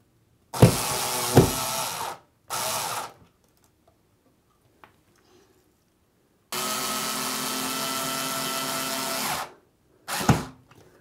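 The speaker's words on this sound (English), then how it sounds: "After you got the screws in securely up on the ceiling" A power drill drives screws into a ceiling to mount a wireless motion sensor, with short motor bursts, a longer steady run, and quiet gaps between them.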